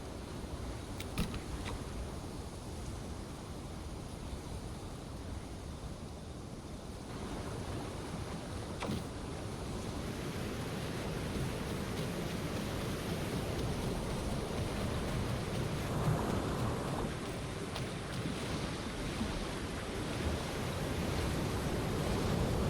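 Waves lap steadily at the water's edge in the video game Path of Titans, a continuous washing surf with a windy hiss running unbroken throughout, with no talk.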